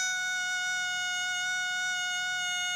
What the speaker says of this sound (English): one type of stall warning system is a pneumatic or reed type stall warning system like on this Cessna.